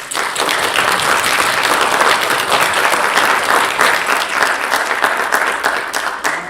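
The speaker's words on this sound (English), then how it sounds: "Let's give him another round of applause" Loud, dense applause from a church congregation fills the room steadily for several seconds, a continuous wash of many hands clapping that starts abruptly and holds without pause.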